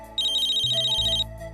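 A mobile phone ringtone plays in a Hindi TV drama scene: a rapid repeating electronic chirp pattern with a bass tone underneath, fairly loud and alone, with no talk over it.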